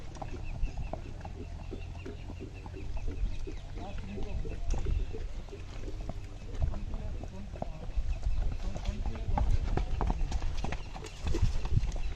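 Horse hooves clip-clop steadily during show jumping practice with desi horses, a continuous rhythmic patter close by, with people talking throughout and chickens faintly audible in the background.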